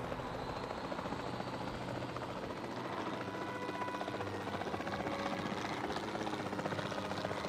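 Helicopter in the video game Jurassic World Evolution 2, its rotor and engine making a steady, close, unbroken drone throughout with no talking.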